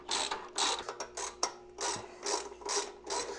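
Ratchet wrench snugging down a shock absorber bolt on a Harley Dyna, a series of about eight close, loud ratcheting bursts in a steady rhythm with a sharp click partway through.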